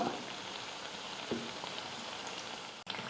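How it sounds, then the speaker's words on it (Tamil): Spinach vadai fry in hot oil with a soft, steady sizzle and bubbling, faint and close, with a brief clatter near the end. "வடை ஒரு பக்கம் வெந்த உடனே இன்னொரு பக்கம் திருப்பி போட்டுக்கலாம்."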